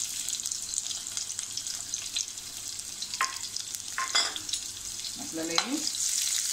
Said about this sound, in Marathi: थोडंसं परतून घ्यायचं आहे।